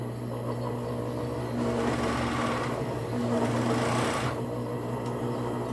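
A sewing machine hums and whirs steadily while stitching bias binding onto the back of a baby bodysuit, with two louder bursts of faster running, close and alone without talk.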